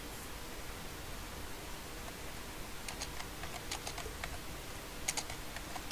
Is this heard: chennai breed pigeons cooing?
no